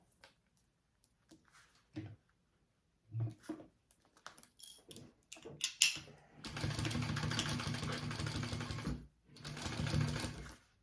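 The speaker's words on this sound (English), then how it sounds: "I'm going to sew this now at my full seam allowance." A sewing machine stitches a bag seam nearby, starting with a few short handling clicks and taps, then running in two sustained whirring bursts with a brief pause between them.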